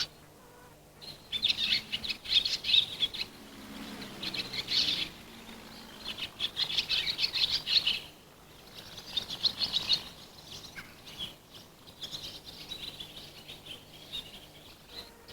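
High, thin chirping calls repeat in busy bursts, several young house martin chicks calling together at close range with brief pauses between flurries.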